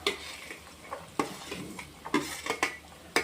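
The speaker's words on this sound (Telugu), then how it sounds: "ఒకసారి ఆయిల్లో అంతా కలిసేలా గరిటెతో కలుపుకోండి" Cut green bean pieces stirred into hot oil with a ladle while cooking beans curry, giving soft scraping clinks and sharp metallic taps against the pan over a faint sizzle, close and moderately loud with no talking.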